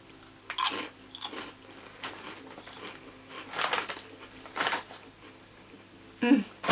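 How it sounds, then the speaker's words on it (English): Crunchy Tayto bacon fries crisps being bitten and chewed, a few sharp crunching bursts spaced out over several seconds, close up with no talking. "They're really crunchy and they've got a really nice bacon taste to them"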